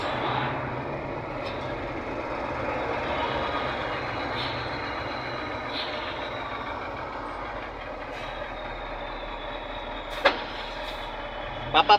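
Big trucks rumble through downtown city traffic in a continuous low engine drone, with occasional brief hisses and clanks, while people talk faintly nearby.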